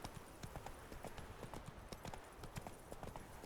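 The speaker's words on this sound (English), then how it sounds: "Let's speed up, Roach" Rapid galloping hoofbeats of a horse ridden across open ground in the video game The Witcher 3, a steady drumming clip-clop that runs close and continuous throughout.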